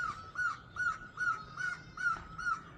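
A rare bird perched on a treetop in Azad Kashmir gives a series of about eight harsh, evenly spaced calls, each a short nasal note repeating in a steady rhythm, moderately close and with no voices.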